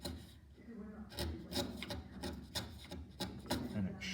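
A hand blade pares thin shavings from wood while a housing joint is cut for a foot stool, giving a series of short, close rasping strokes in an uneven rhythm, with no talking.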